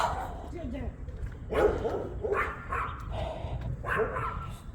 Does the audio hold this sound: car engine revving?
no